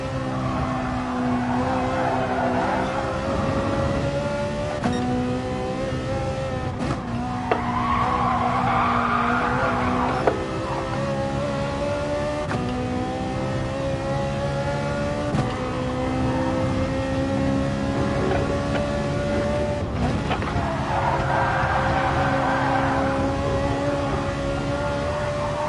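A Ferrari race car in Gran Turismo Sport holds a loud, steady engine drone whose pitch rises and falls with the revs, while tires squeal and skid through the corners. No one speaks.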